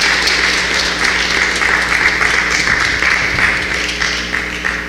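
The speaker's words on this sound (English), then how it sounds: "give him one more round of applause" Sustained audience applause for a speaker at a reparations convention in Washington, DC, a thick, continuous wash of many hands clapping in a large hall, steady throughout and easing slightly at the end.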